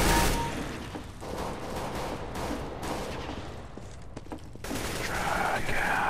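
Rapid shotgun blasts and surrounding gunfire in Counter-Strike: Global Offensive, a dense run of sharp, loud reports with brief gaps, fairly close and continuous throughout.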